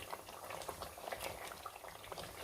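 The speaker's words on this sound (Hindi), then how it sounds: "अब इसको मीडियम फ्लेम पर 5 मिनट के लिए कुक करेंगे।" Aloo kofta curry simmers in a pan over a medium flame with a steady, close bubbling and soft popping that runs throughout, with no talking.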